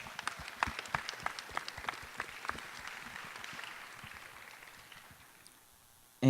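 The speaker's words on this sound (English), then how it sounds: "If we could just give them a round of applause." Scattered audience applause at a high school student race relations forum, starting with sharp individual claps and thinning out as it fades, ending in near quiet.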